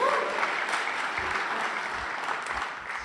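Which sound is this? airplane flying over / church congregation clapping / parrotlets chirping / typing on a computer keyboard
church congregation clapping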